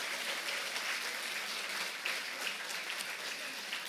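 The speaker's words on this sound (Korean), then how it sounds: "여러분 뜨거운 박수 한번 부탁드리겠습니다" A church congregation at a Sunday evening graduation service applauds warmly, a steady, even wash of clapping that is fairly soft and distant, continuing without a break.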